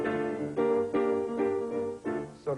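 The swinging opening of a song is played in an ordinary minor mode as a short run of repeated, rhythmic chords with a bouncing pulse and clear gaps between phrases.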